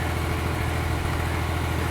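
A tractor engine idles steadily near a running tube well in a field, a constant low rumbling drone that stays close and even throughout with no talk.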